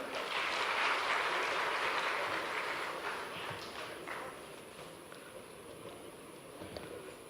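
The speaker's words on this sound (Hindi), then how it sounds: "आपसे अनुरोध करूंगी जोरदार तालियों से उनका स्वागत करें" Applause from a large audience welcoming a dignitary at a state tourism event in an international convention centre hall, a dense, sustained clatter of many hands that is loudest at first and then gradually thins and fades.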